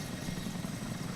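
Grey Mil Mi-24 Hind helicopter in the Prepar3D flight simulator, its rotors and engine giving a steady, loud droning thrum heard alone for a moment.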